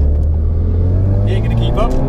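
A modified Mk3 Ford Focus RS of over 400 bhp pulls hard, its engine loud and close in a brief burst of flat-out acceleration, with a voice speaking over it.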